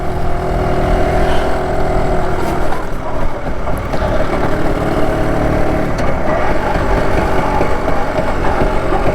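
A BSA Bantam two-stroke motorcycle engine running steadily while riding up a road, loud and close with a constant buzzing drone and wind noise.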